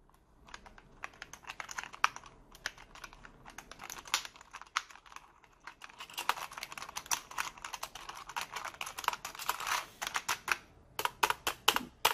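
Typing on a cheap red faux-mechanical keyboard, a budget board imitating mechanical switches, produces rapid, uneven clacking keystrokes close by, growing busier and louder toward the end, with no talking.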